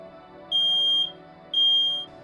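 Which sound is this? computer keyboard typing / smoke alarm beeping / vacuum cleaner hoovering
smoke alarm beeping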